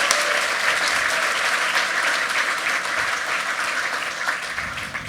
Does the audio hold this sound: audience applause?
yes